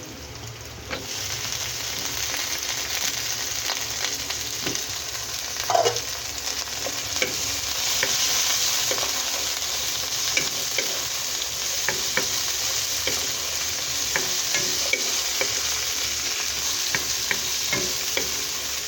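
Kangkong stems sizzle with tofu in a hot pan, a steady crackling fry close by, broken by occasional clinks and stirring scrapes, with no talking.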